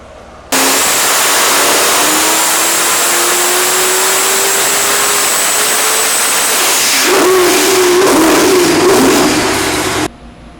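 A 2400-horsepower big-block Chevy engine with boost runs hard on a dyno, producing a loud, sustained roar whose pitch climbs steadily. Near the end it turns harsher and rougher, then cuts off abruptly.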